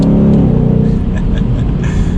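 A loud, deep 2020 Ford Mustang GT V8 rumble with a throaty burbling exhaust, revving and surging at close range with no voices.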